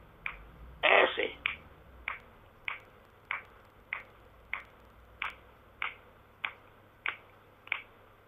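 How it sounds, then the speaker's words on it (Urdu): A dozen single finger snaps land at a steady, roughly half-second rhythm, sharp dry clicks close to the mic, the second one louder and rougher than the rest, over faint background hiss. "چٹکی بجانا زیادہ زور سے آتی نہیں مجھے"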